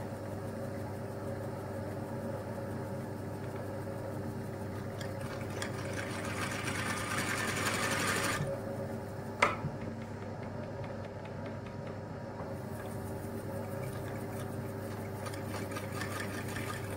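A pico (picot edging) sewing machine stitches along a fabric edge, running as a steady, close mechanical hum with a fast regular whir, briefly rising in pitch partway through, with no talking.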